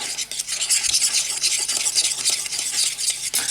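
Tamiya metal stirrers scrape and swirl through a pot of model paint, producing a steady close-up rasping, stirring noise that continues throughout with no talk.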